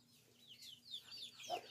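A large rooster, kept with turkeys and other farm birds, crows faintly at a distance, its rising, strained call mixed with soft clucking and outdoor background.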